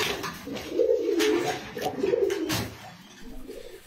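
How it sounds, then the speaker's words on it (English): Low, rolling coos from a pair of Andalusian-colored Pomeranian Pouter pigeons, several soft burbling phrases in close succession, near and fairly quiet with no talking. "This is awesome looking Andalusian color Pomeranian Pouter pigeon pair."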